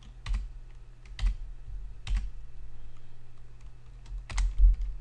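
Fingers typing a sudo mkdir command on a computer keyboard while setting up a Raspberry Pi MAME console, a few close, crisp key clicks and short bursts spaced out over a quiet background hum.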